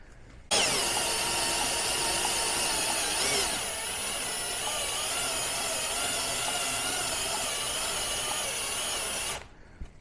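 Electric drill running steadily for about nine seconds during work on a 1948 Scott-Atwater 3.6 hp outboard motor, a loud, close, continuous whine with a slight pitch shift partway through, starting and stopping abruptly with no talking.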